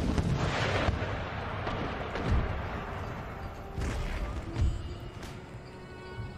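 Booming artillery fire on an Empire: Total War battlefield, dense and continuous with muffled heavy thumps and rumbling blasts layered over each other at a distance.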